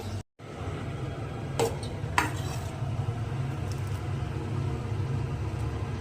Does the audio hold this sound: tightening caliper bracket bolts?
no